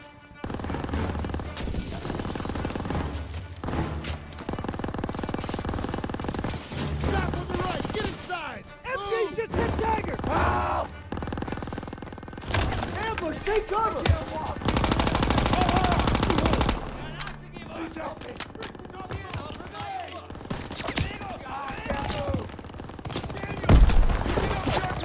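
Machine gun fire rattles through a World War II battle in Call of Duty WWII, with dense sustained bursts, scattered gunshots and crashes, and shouted voices now and then over the roar.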